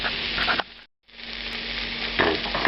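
Diced onion and celery frying in a pan for jambalaya, a steady close sizzle with a short gap of silence, then the sizzle resumes and rises briefly as the pan is stirred.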